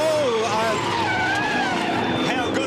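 A V8 Supercar slides on a wet circuit beside concrete walls, its engine roaring loud and continuous with squealing tyres, under excited commentary.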